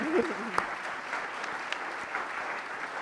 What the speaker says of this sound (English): I was hoping that would generate the applause it deserves.